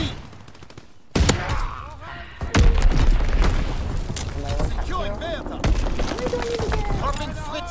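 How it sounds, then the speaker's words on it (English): Bombs and gunfire go off in Call of Duty WW2 online multiplayer on the Shipment map. Loud booms with heavy low rumble are followed by continuous nearby shooting and battle noise, and in-game voices call out over the chaos. "Enemy bomb incoming. Get to cover."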